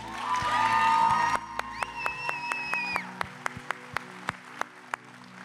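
A church congregation shouts praise with raised, sustained voices, then breaks into sharp, evenly spaced claps that keep a steady rhythm while the shouting fades, close and loud.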